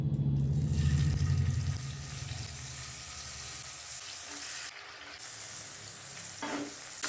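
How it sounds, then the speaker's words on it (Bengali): Bata fish fried in hot mustard oil over a medium-high flame, a soft continuous sizzle following a brief low rumble at the start, with a few faint clinks later on. "বাটা মাছ ভেজে নেব।"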